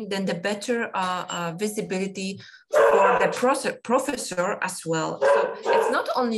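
A dog barks in the background of an online discussion, sharp yips breaking in between and under a person's continuous, close talking.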